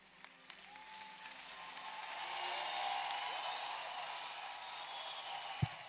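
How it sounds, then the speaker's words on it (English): A church congregation claps steadily through a sermon gathering, the applause swelling to a peak midway and then settling, with a single sharp knock near the end. "Keep clapping, keep clapping."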